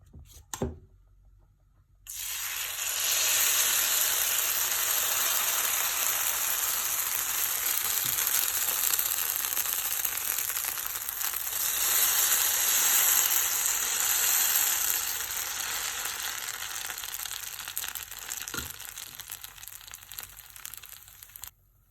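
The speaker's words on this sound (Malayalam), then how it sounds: "ഇനി ദോശ ചൂടാം." Dosa batter hitting a hot oiled pan bursts into a loud, steady hiss and crackle that holds for many seconds before slowly easing, heard close up with no talking.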